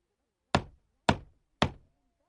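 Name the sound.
knocking on a door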